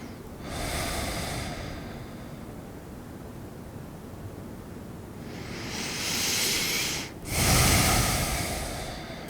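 Slow, deep yoga breaths during a flex class, two long airy exhalations that swell and fade with a brief pause between them, close and fairly soft over a steady hiss.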